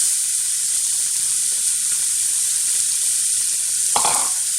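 Onions sizzling in a pot for a spicy Indian lamb stew, a loud, even, hissing fry that runs throughout, with a brief stronger flare near the end.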